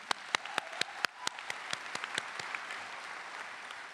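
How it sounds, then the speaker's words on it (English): Graduates and guests at a Simmons University commencement give a brief round of applause. Distinct claps ring out at first, then blend into a soft, steady patter that continues for a few seconds. "let's give them a round of applause"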